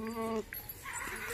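A Rajanpuri goat gives one loud, close, wavering bleat lasting under half a second, followed by softer farmyard noise and faint voices.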